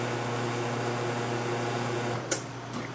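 A steady mechanical hum of a small CO2 pump running continuously on a tap system, with a brief click or clatter near the end.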